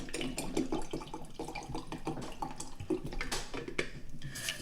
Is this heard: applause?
no